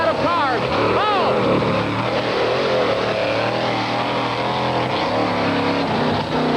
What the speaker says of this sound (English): Here comes Bigfoot. He's on it right now. He comes over the first set of cars.